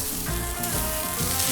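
A smash burger patty sizzles loudly on a hot outdoor grill at 400 degrees, a dense, continuous close-up hiss with faint scraping underneath and no voices.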